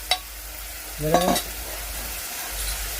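Yogurt is stirred into a fenugreek seed curry in a hot pan: a low frying hiss with a sharp tap at the start and a brief squeaky scrape of the spoon midway.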